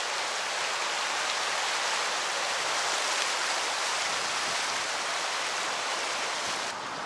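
Steady broadband rush of the Yakima River flowing in Washington's Yakima Valley, a continuous close wash of moving water with no voices, holding even throughout before easing slightly at the very end.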